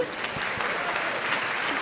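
An audience at a Talking Volumes book event gives steady, dense applause that holds at an even level throughout the short stretch.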